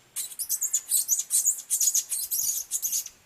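A person imitates a white-faced monkey call with a rapid burst of high, squeaky chirps and twitters lasting about three seconds, close and clear with no other voices.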